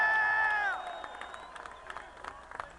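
A large crowd at a rally in Albany: after a loud, sustained voice at the start, a fainter swell of cheering follows, with scattered claps and shouts from a distance.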